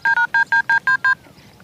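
Seven crisp telephone keypad tones beep in quick, even succession, each short and loud, with a near-silent pause afterward and no talking.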